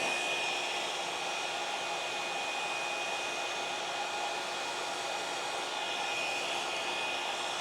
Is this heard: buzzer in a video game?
no